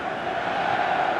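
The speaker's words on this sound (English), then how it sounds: "a capacity crowd here" Stadium crowd at a FIFA 19 or PES 19 football match between Juventus and Barcelona, a steady broad roar of a packed arena, continuous and even with no single voice standing out.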